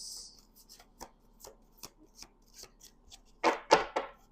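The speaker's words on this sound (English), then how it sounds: "We're going to shuffle." A deck of oracle cards is shuffled in a kitchen, a run of soft, light card flicks and slaps that ends in a few louder riffling bursts, close and with no voice over it.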